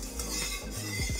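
Metal spatula scraping and spreading oil around the inside of a kadai before frying brinjal fritters, a few short close metallic scrapes in quick succession.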